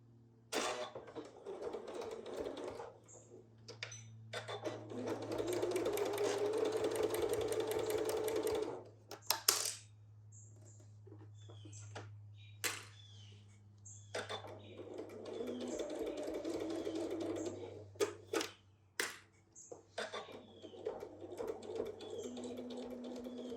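A sewing machine stitching French seams on a fabric cosmetic makeup bag, running in steady close bursts with short stops, clicks and handling noises between runs, and a low hum underneath throughout.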